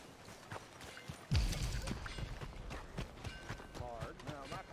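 Horse hooves clip-clopping in the video game Red Dead Redemption 2, a steady run of hoofbeats under an ongoing voice, with a heavy thump partway through and rumbling ambience.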